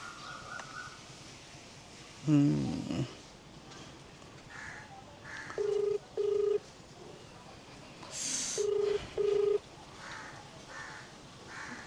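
A phone line ringing with paired electronic tones repeating at a steady pace, after an earlier harsh call, in a quiet setting, as an outgoing call is placed.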